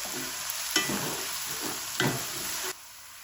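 Ginger garlic paste and meat sizzling in a kadai, a steady frying hiss broken by two sharp stirring scrapes before the sound cuts away abruptly.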